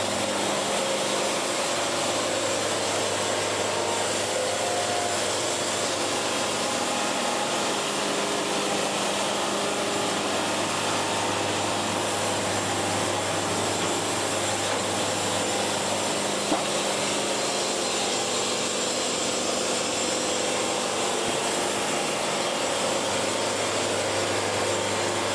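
Sawmill blade cutting a log into boards, a steady loud droning whir with a low hum running unbroken throughout, near and without talk.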